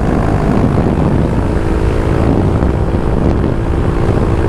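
A motorcycle engine drones steadily and loudly while riding a winding, curvy road near the Malico viewpoint in Pangasinan, with wind rush blended in and no talking.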